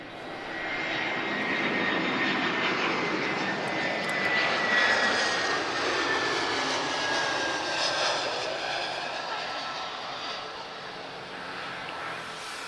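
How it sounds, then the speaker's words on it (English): An Airbus A320-214 arriving at Lisbon from Geneva, its engine roar swelling in over the first second, holding strong with a thin high whine, then easing slightly as it passes, no speech. "So arriving from Geneva, guys, this is an A320-214"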